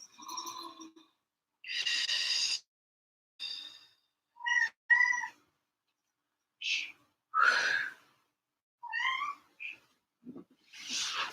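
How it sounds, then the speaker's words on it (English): A house cat meows repeatedly during a home Pilates session, with a series of separate, fairly close cries spaced by short pauses, some drawn out and some clipped. "My kitty."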